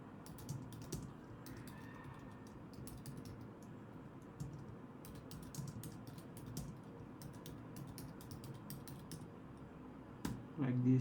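Rapid clicking keystrokes on a computer keyboard come in irregular bursts and pauses against a faint room hum, ending with a louder thump.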